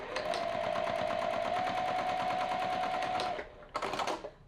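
Domestic sewing machine stitching through layered quilt top, batting and backing for a rag quilt, a steady rapid mechanical whir with even stitch pulses and a constant hum, stopping abruptly then a brief burst of running resumes.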